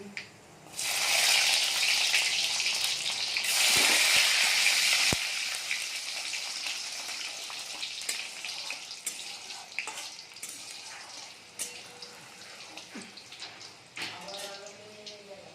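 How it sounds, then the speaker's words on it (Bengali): Black cumin seeds and chopped garlic hit hot oil with a loud, bright burst of sizzling that fades into steady crackling and popping, with someone talking softly over the frying. "আমাদের তেলটা গরম হয়ে গেছে এখন আমরা মধ্যে দিয়ে দেবো কালো জিরে ফোড়ন এবার আমরা দিয়ে দেবো রসুন কুচি"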